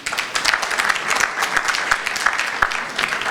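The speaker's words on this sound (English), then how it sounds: "A big round of applause for Mr." Guests at the Pakistan Chamber of Commerce USA annual gala give a sustained round of applause, steady dense clapping filling the hall with a few sharper claps standing out.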